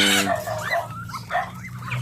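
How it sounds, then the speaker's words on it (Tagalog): A dog barks a few times out on a farm in the countryside, moderately close, with short yipping calls over a steady low background hum and no talking. "ingay ng aso doon oh"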